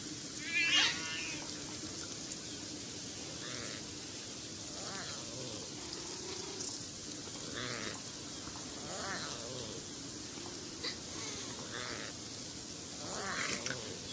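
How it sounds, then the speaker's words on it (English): Several short cat meows and yowls in the video game Beyond Eyes come at irregular intervals over a steady background hiss, moderately loud and fairly close. "Those are mean kitties. Making mean kitty noises."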